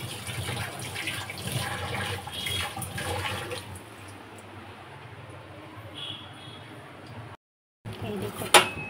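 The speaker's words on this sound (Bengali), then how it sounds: "হাতটা ধুয়ে নিই।" Tap water runs steadily while hands are washed at a home sink, a broad splashing hiss that stops abruptly near the end, followed by a short clatter.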